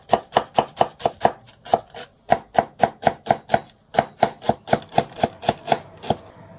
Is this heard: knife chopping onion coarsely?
yes